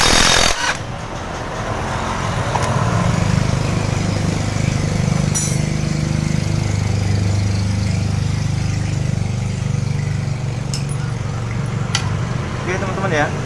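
Honda Mega Pro motorcycle engine running in gear with the rear wheel held still, a steady low mechanical drone with rattling texture, loud and continuous after a brief start, with faint clicks.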